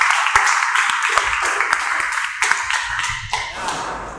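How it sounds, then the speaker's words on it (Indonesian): Classroom audience applauding after a group presentation, a burst of close, brisk hand clapping that thins into scattered claps with a few faint voices. "Kasih aplaus."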